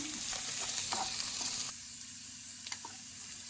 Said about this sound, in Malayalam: വെണ്ടയ്ക്കായും ഉള്ളിയും വഴണ്ട് വരുന്നുണ്ട്.